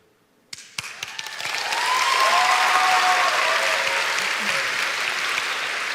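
Convention panel audience at PAX West 2016 bursting into loud applause after a few scattered early claps, swelling quickly into a dense, sustained roar of clapping and cheering from a large crowd.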